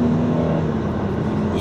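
A Dodge Charger engine accelerates with a loud, rough, steady roar, someone speaking over the noise throughout the short burst.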